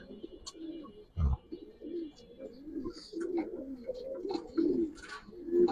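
Close, soft, repeated cooing from Gribaz-type pigeons, with low throaty coos running one after another and a brief thump near the start.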